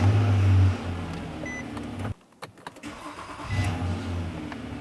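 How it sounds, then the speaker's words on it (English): A 2009-2014 Nissan Maxima with a 3.5L V6 and a freshly replaced starter runs as a steady, loud engine drone, then drops sharply to near quiet partway through before the motor picks up and runs again. "attempt to start up the vehicle several times"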